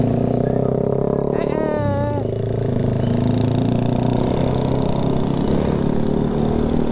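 Steady engine hum of a small automatic motor scooter riding in fast traffic, with wind and road noise throughout and a brief rising whine early on.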